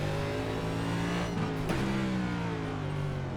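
A NASCAR Cup race car in iRacing at Long Beach engine-brakes, its engine droning loud and steady with harmonic whine, a brief pitch dip and sharp blip midway as it slows.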